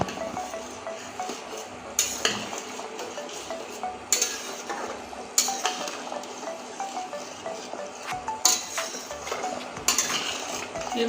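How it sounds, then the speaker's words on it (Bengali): Egg curry being stirred in a pan after ground garam masala goes in, metal spoon scraping and clinking against the pot in repeated strokes over a faint sizzle, close and without talk. "এবার গরম মশলাটা দিয়ে দিচ্ছি এবার সুন্দরভাবে নেড়ে নেব"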